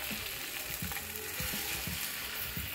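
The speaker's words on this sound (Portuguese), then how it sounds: "Vou jogar aqui um ovo batido com um pouco de sal e vou espalhar pela frigideira." Beaten egg with a pinch of salt spreads across a hot frying pan, giving a soft, even sizzle with rhythmic scraping taps from spreading it around, fairly quiet and close, with no voices.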